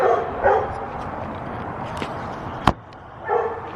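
A pet dog lets out a few short, faint barks and yips from across a house, with one sharp, brief bark standing out and quiet room noise between them.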